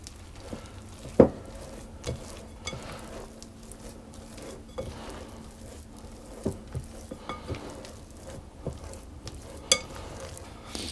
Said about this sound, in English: I'm going to add in the chocolate chips and continue mixing so that they get distributed